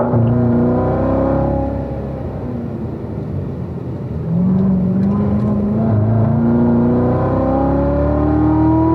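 A race car on a track drops down to third gear for a corner, its loud, close engine note falling and rising again through the downshift, then climbing steadily in pitch as it accelerates out, with no one talking.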